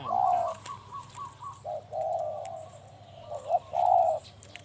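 A dove coos in a soft, repeated rhythmic phrase, fairly close, with quiet background and no talking.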